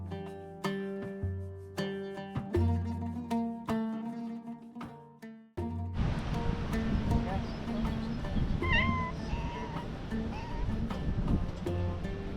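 Cats meowing around an old amphitheatre in Türkiye: a few faint, wavering meows rise out of outdoor background noise after a stretch of plucked music, with people talking nearby.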